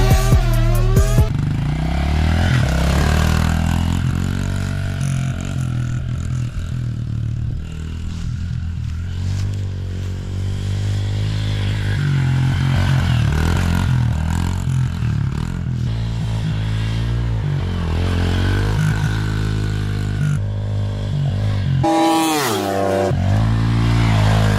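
A Honda CRF110 and a Kawasaki 110RL, two 110cc dirt bikes, race laps around a dirt track, their engines buzzing and revving steadily near and loud, pitch rising and falling through gear changes with occasional clatter.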